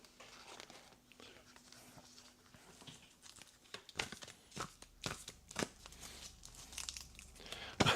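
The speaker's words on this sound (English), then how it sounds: "I'll stop shuffling and I will cut." Deck of game cards shuffled by hand during a two-handed solo session of the Eldritch Horror board game, soft riffling and crinkling bursts that grow sharper and louder in the second half, with quiet talk underneath.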